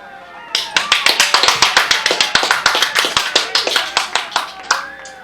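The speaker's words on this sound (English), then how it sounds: "I appreciate the applause. Smattering." A small comedy-show audience gives a brief smattering of applause, steady clapping for about five seconds before tapering off, fairly close.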